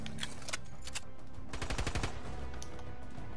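Distant automatic gunfire from a video game firefight rattles in quick bursts, a fast run of shots peaking mid-clip, faint and without speech.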